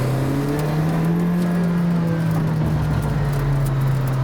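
A McLaren Senna supercar's engine drones loud and close in a continuous high-speed pull. Its tone rises slightly, then eases back, with steady road and wind noise beneath and no voices.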